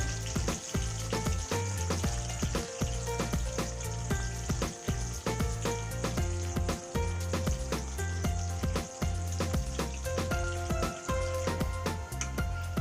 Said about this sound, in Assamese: এতিয়া পিঁয়াজখিনি ইয়াত অলপ ফ্ৰাই হ'বলৈ দিছোঁ, ৰঙা গোল্ডেন কালাৰ হ'বলৈ দিছোঁ।